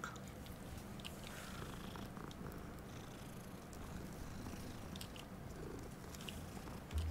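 Soft, continuous purring of a pet cat held close, a steady low rumble with faint rustling, quiet and without any talk.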